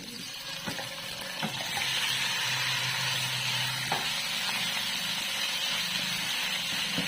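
Chicken pieces drop into a pan of frying garlic and onion, and the soft sizzle swells into a loud, steady hiss with a few clinks of utensils. No one speaks.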